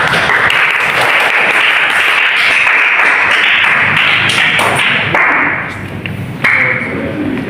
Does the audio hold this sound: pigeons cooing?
no